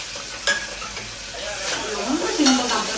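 Onions and tomatoes are stirred and sautéed in a pan while making goat leg soup, with a steady close sizzle, scraping stirs and a light clink of a utensil against the pan.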